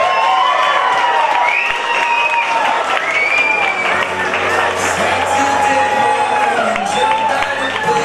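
Crowd at a Miss and Mister pageant bursts into applause and cheering for a winner, loud clapping beneath high excited shouts and whoops, while an announcer's amplified voice talks over the noise.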